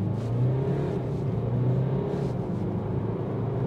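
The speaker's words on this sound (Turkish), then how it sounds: "Dinamik sürüş moduna ve dip gaz yapalım." A BMW F30 320d xDrive diesel pulls hard at full throttle in sport mode, its low engine drone heard from inside the cabin, rising and holding steady with road rumble underneath and no speech.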